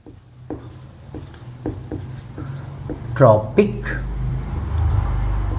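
A teacher writes notes on a classroom board during a Class 10 biology lecture, making a series of short, distinct scratching and tapping strokes at a steady pace, with a voice speaking in the room.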